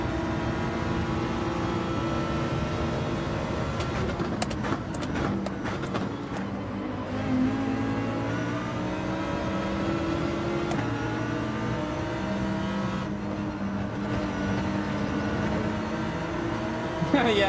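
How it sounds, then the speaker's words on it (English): Toyota Supra engine droning near the top of its rev range in a Gran Turismo 7 race, a sustained loud buzzing note with shifting pitch and a few clicks, under occasional talk. "Oh, here goes the Supra's top end."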